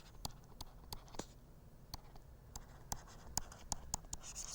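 Marker or chalk writing on a board in a lecture hall, a series of quiet, irregular short scratching strokes and taps, faint and close, with no talking.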